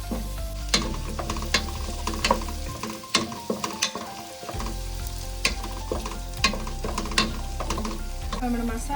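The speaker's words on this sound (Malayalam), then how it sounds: "നമ്മുടെ മസാല ഏകദേശം സെറ്റായി വന്നിട്ടുണ്ട്. വഴണ്ട് വന്നിട്ടുണ്ട് സവാള." Onion and masala sautéing in a pan for a tapioca and beef biryani: a loud, constant sizzle close up, broken by repeated scrapes and knocks of a stirring spatula.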